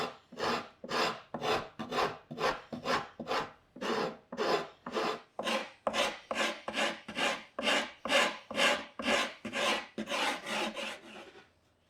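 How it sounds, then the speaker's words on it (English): Carbide file rasping the ends of an opening cut in scrap wood for a retro swivel chair, with about two dozen rhythmic, even strokes heard close up and clear, no talking. "I also got hold of this carbide file that I thought looked interesting, so I'll try that out with refining the ends of the opening."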